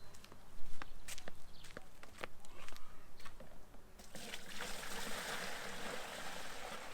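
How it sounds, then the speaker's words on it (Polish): Water from a newly fitted 50-litre boiler pours into a bucket, starting with scattered drips and clicks before a steady, hissing gush takes over for the last few seconds, fairly close and unaccompanied by speech. "z boilera woda schodzi, a ja biorę wiadro i już zaczynam przelewanie"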